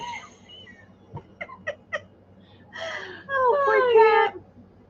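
A human voice imitates a stoned cat, starting with a few short gasping sounds and then drawing out into a long wavering, moaning meow.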